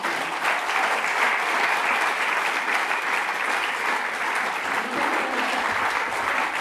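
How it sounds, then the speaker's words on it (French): A theatre audience applauds at the end of a performance of short plays, dense continuous clapping that holds at an even level throughout, with no voices on top. "vous les applaudissiez une dernière fois"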